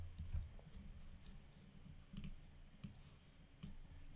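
Computer keyboard clicking, faint scattered keystrokes in a quiet room, a few isolated taps and short clusters spread out with pauses between them.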